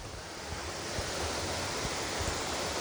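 Small waterfall at the head of Little Shickshinny Falls in Shickshinny, Pennsylvania, a broad, steady rushing roar of water heard close and continuous, slightly rising in level, with no voices.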